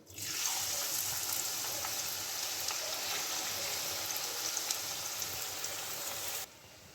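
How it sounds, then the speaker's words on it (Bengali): Onions frying in hot oil for biryani beresta make a dense, even sizzle with small crackles throughout, ending abruptly as the hiss drops to a quieter background. "বিরিয়ানির রাইসটা হতে হতে এখানে আমি পেঁয়াজের বেরেস্তাটা বানিয়ে নেব"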